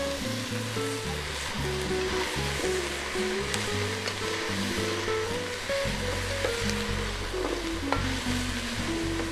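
Radish cooking in a pan until wilted gives off a dense, steady sizzling hiss with no pauses, heard up close over a low, constant background hum.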